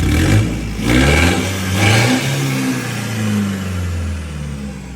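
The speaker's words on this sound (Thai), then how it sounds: "ฟังเสียงมันต้องฟังเสียง ฟังจากท่อแล้วมันเล่าขนาดนี้" A 2019 Chevrolet pickup engine revs hard through its exhaust, rising and falling in several surges before settling into a steady, loud rumble.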